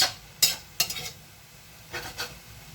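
Vegetables stir-fry in a pan for a Korean rice cake dish, with several sharp scraping strokes of a utensil in two bursts over a low sizzle, no voices.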